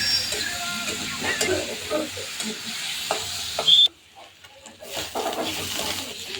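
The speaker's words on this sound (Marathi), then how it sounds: "मिरची व कडपत्ता चांगला तळल्यानंतर त्याच्यामध्ये कांदा घालायचा नंतर मोहरी घातली" Onion goes into hot oil with green chillies and curry leaves for a crumbled bhakri and chapati dish, giving a close crackling sizzle with stirring scrapes; the sound cuts out briefly near the end and then returns.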